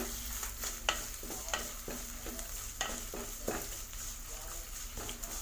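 Green chili and ginger sautéing in a pan for fish curry, a constant sizzle with regular scraping stirs of a spoon every half second or so, no speech.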